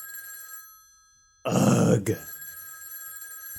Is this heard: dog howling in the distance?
no